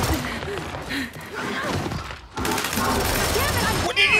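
Rapid gunfire from a Gears of War 5 multiplayer match, dense crackling bursts with thuds and impacts running almost continuously at close range, with a short lull midway.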